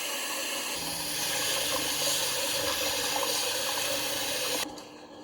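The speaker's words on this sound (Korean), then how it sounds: "이렇게 해서 두세 번 정도 헹궈줘요. 찬물에." Cold tap water runs steadily into a sink as vegetables are rinsed, a continuous close splashing rush that stops abruptly near the end.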